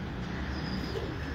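Pigeons in a home loft coo softly, low throaty murmurs under a steady background hum, close and continuous for a brief moment.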